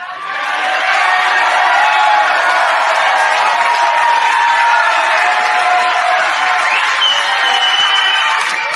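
A large crowd at a Vivek Ramaswamy event cheers loudly and steadily for several seconds, with whoops and applause mixed into the roar.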